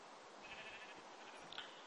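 Sheep in a video game bleat faintly over a steady hiss, with one brief, thin bleat rising near the end.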